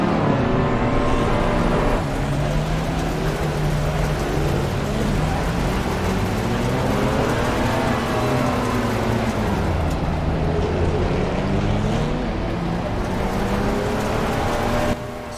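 Race cars circling the Zolder track in Assetto Corsa Competizione, a loud continuous roar of several engines rising and falling in pitch as they accelerate through a chicane onto the home straight.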